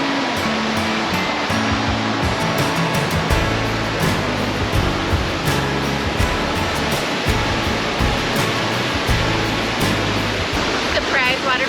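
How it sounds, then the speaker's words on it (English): Cooper Creek Falls, a waterfall along the Lewis River Trail in Gifford Pinchot National Forest, roars as a steady, loud broadband rush of falling water, continuous and close throughout. "Waterfall number 4, we've got Cooper Creek Falls."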